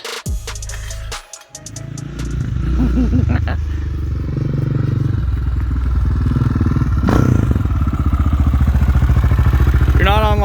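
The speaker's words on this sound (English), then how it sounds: "It's not backfiring or popping. It fired right up. And the idle's coming right down." A Honda 400EX quad engine fitted with a big bore kit and cam fires up after a brief starter crank, then runs and settles to a loud, steady, throbbing idle close by.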